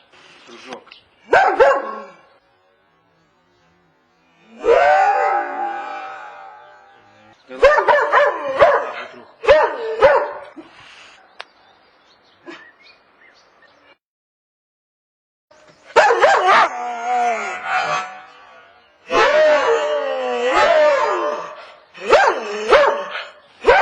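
A dog barks and yips in scattered bursts at close range, some whimpering tones among them, separated by silent gaps.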